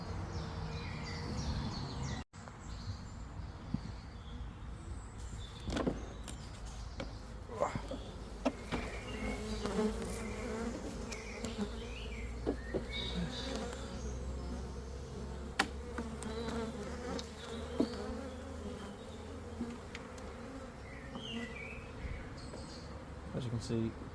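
A steady, droning buzz of a honeybee swarm nesting in stored equipment fills the scene, with occasional louder passes close by and faint background noise.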